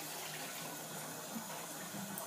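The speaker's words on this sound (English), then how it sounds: "Oh, there goes all the water." A kitchen tap runs continuously while dishes are washed, a faint, even rush of water with no distinct splashes and no voices.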